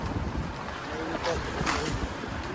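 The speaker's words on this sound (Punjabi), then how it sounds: "ਠੰਡੀ ਠੰਡੀ ਹਵਾ ਚੱਲ ਰਹੀ ਹੈ" Wind gusts buffet the microphone in the mountains in a rough, continuous rush, swelling slightly in the middle of the short stretch.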